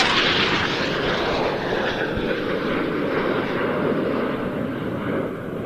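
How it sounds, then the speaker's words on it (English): A Eurofighter Typhoon fighter jet arrives at the Royal International Air Tattoo 2025, its engine roar a loud, continuous broadband rumble that holds steady and fades slightly toward the end. "Ah, here comes a Typhoon."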